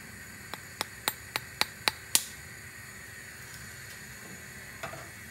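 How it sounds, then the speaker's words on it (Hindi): The back of a spoon taps the bottom of an egg seven times in a steady rhythm. The taps are light, crisp and close, and the last is a sharper crack. Faint kitchen hiss sits underneath. "स्पून की बैक साइड से अंडे के बॉटम पे आपको इस तरह टैप करना है जब तक एक स्नैपिंग साउंड ना आए"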